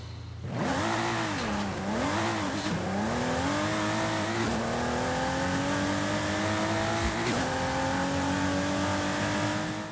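A Lykan HyperSport hypercar engine in Forza Horizon 5 revs repeatedly, its pitch swooping up and down in bursts before settling into a long, rising high-revving whine, loud and close.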